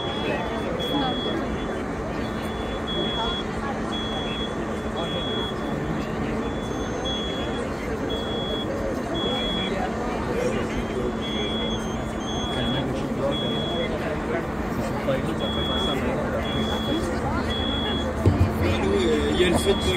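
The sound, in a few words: fire alarms sounding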